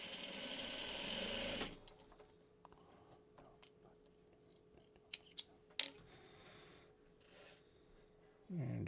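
A sewing machine runs in a fast, buzzing burst while stitching quilt block pieces for a Dresden block. It then falls quiet apart from a faint hum and a few small clicks, and a second stitching burst starts right at the end.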